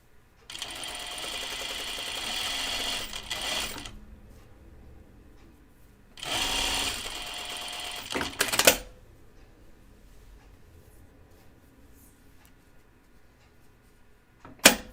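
A sewing machine stitches a 1940s New England style dress in two loud bursts, each about three seconds long, separated by quiet pauses. A few sharp clicks follow, and the clip ends in near silence.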